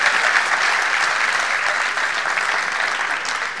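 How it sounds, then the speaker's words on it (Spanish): Audience applause at a talk on user research, a dense steady patter of many hands clapping together, loud and sustained before easing slightly toward the end. "Aplausos."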